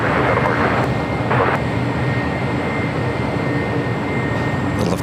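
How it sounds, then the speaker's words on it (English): An Iberia airliner takes off from runway 25 left at LAX, a loud steady engine roar with a high whine running through it, close and continuous, with a few short bursts of other noise. "Iberia takeoff on 25 left."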